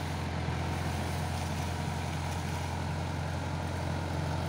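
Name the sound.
tractor-mounted hydraulic road sweeper engine running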